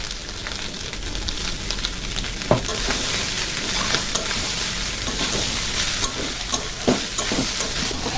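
Leftover rice stirred and mixed in a kadai, a steady soft sizzling fry with scraping stir strokes and a few sharper spoon knocks against the pan, continuous throughout with no voices.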